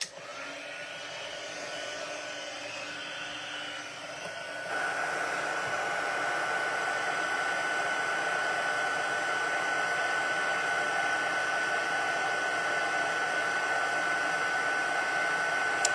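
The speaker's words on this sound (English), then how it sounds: "And now, heat up my heat gun." A heat gun used for crafting runs with a steady, loud rushing blow like a hair dryer, stepping up in intensity partway through and then holding constant.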